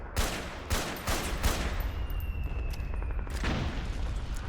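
SVD rifle fire in the video game Metal Gear Solid 4: a few loud, booming shots in quick succession, then a lingering rumbling tail with a faint high tone.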